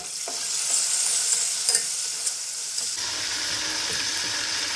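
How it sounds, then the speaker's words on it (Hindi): Tomatoes with lightly golden onions sauté in hot oil for a restaurant-style pulao, a steady close sizzle with scraping stirs that turn heavier and more clattery in the last two seconds. "टमाटर सॉफ्ट होने तक हम भून लेंगे।"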